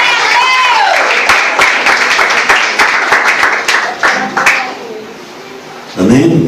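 Church congregation applauding with dense clapping for about four seconds that thins out, while a preacher speaks over it and a fuller voice cuts in near the end.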